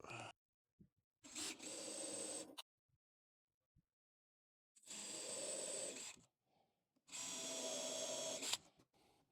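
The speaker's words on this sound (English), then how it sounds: "So on the front, I'm going to try to countersink them, a little less tear out." A power drill countersinks screw holes in the front of a wooden ladder planter, running in three short whirring bursts separated by silence, close and moderately loud.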